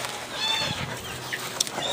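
Barred Rock, Dominique, brown red and Delaware chickens cluck and call faintly outdoors in a short burst, with soft scattered bird noises over a steady background.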